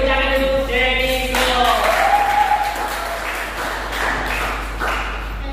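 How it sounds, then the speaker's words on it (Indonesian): Classroom applause breaks out for a ninth-grade student, a dense wash of clapping from many hands that follows a short stretch of talk and keeps going steadily to the end. "Beri tepuk tangan untuk Jenny."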